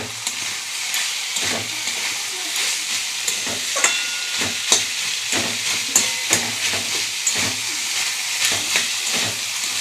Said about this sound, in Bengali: অনেকটা পরিমাণে হয়েছে ভাজাটা